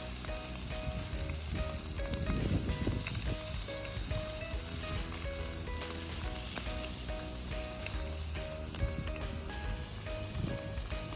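Chorizo sizzling in a pan beside scallops, a steady close hiss and crackle of frying with small spits throughout, moderately quiet and uninterrupted by talk.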